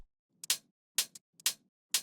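A tech house drum loop runs with transient processors engaged, giving short, tight, snappy hits roughly every half second with quick grace ticks between them. The hits are dry and close, with short decays and no voices.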